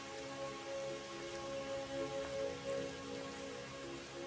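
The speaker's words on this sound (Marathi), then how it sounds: "आला बघ तुझा लाडका पाऊस." Steady rain falls outside a balcony as a continuous, even hiss of drops that stays moderately loud and unbroken throughout, with a faint low hum beneath.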